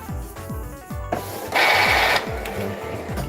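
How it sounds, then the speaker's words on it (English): An Epson L121 inkjet printer running a nozzle check pattern gives off repeated mechanical whirring sweeps and clicks as the print head moves back and forth. A louder burst of feed noise comes partway through, with no talk. "It will print something."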